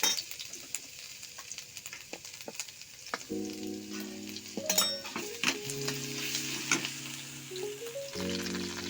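Garam masala and garlic paste sizzle in hot oil in a pan, a steady close crackle broken by scraping stirs and clinks of a utensil against the metal.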